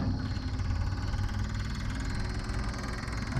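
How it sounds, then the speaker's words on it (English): A fuel pump on an old commercial diesel mower left sitting in a field for 20 years, a steady close buzzing hum with a fine rapid pulse that runs without a break for a few seconds. "I hear a fuel pump, so that's good."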